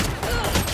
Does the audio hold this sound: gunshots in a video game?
yes